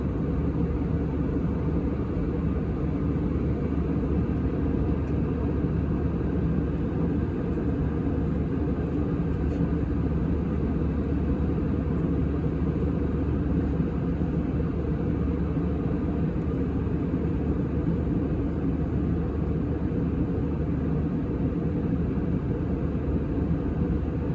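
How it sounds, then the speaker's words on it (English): Inside the cabin of a United Airlines Airbus A319-100 during descent and landing, a constant low roar and rumble from engines and airflow, steady and uniform throughout. "we will be doing our descent and real life landing on board this A319"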